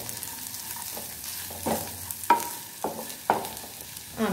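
Long-cut carrot strips frying in a pan, a quiet sizzle broken by a few sharper scrapes and knocks of stirring, close by with no voices.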